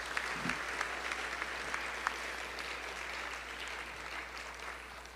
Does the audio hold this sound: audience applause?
yes